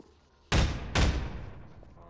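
Two loud, close gunshots from a handgun in the Half-Life VR game, half a second apart, each a sharp broadband crack with a reverberant tail that lingers and decays.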